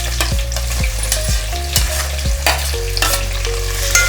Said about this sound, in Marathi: आता आपलं तेल गरम झालेले तर मी इथे चार चम्मच तेल टाकलेले आता खडे मसाले घालते त्यानंतर लगेच कांदे घालायचे